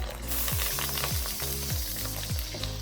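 Kimchi spam fried rice sizzles loudly and steadily in a hot pan as a little water is added, with a low hum that rises and falls roughly once a second.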